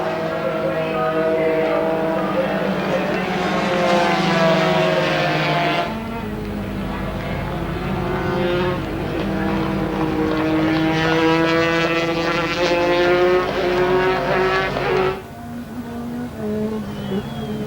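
Several 125cc racing motorcycles scream past on a race track in Australia in 1991, their high-pitched two-stroke engines rising and falling through gear changes in repeated loud passes, with a commentator's voice present.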